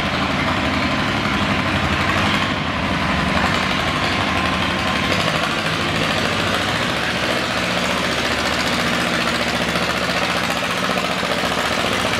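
A John Deere G tractor in the 5,000 lb classic class pulls a sled at a Chatham tractor pull, its heavy engine roaring loud and unbroken throughout.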